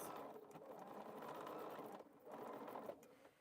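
Sewing machine stitching a quilt block, a steady close whirring run that pauses briefly near the middle and then resumes, no talking over it.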